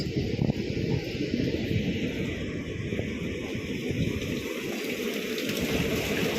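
Steady rushing of a waterfall beside a Konkan Railway line, a broad continuous roar heard from a short distance, with no one speaking.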